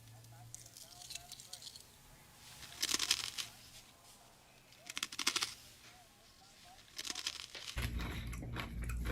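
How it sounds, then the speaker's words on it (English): Close, crunchy chewing of a Reese's peanut butter cup comes in three separate bursts of bites amid quiet mouth noises, ending with a sudden wash of noise. "It's crunching."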